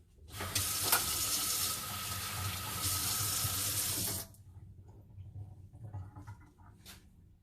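Tap water running while adding water to green tea hotteok dough: a loud, steady gush for about four seconds, then stopping, followed by quieter handling sounds.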